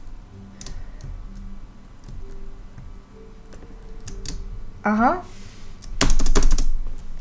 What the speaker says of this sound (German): mal einmal ein bisschen penetrant auf der Tastatur rumkloppen